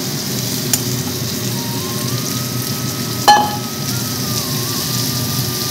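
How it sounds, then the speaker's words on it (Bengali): Sliced onions sizzle steadily in a hot pan of oil, a loud continuous frying hiss broken by a single sharp clink of a utensil. "এবার পেঁয়াজগুলোকে হালকা একটু ভেজে নিয়ে"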